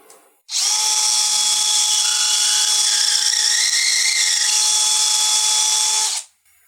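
A power drill drilling into a wall stud whines steadily for about six seconds, loud and close, with a constant high motor pitch from start to stop.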